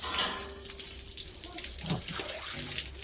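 A tap runs water into a basin while a pet's cage is washed out, a steady close gushing stream with small splashes and shifts in flow, with no voices.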